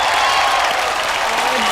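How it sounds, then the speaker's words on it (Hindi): Loud, dense applause from a comedy-show studio audience fills the whole moment, a steady wash of clapping with faint crowd cheering. "एक बार जोरदार तालियां हमारे सुपरस्टार दिव्या दत्ता, जूही चावला और सरोज खान जी के लिए।"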